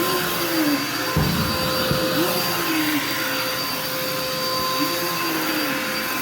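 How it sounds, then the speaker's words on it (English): Vacuum cleaner running in a living room, a loud continuous motor roar close by, with pitch shifting slightly as the machine is pushed back and forth across the floor. "gonna focus on the vacuum cleaner and me just cleaning my living room"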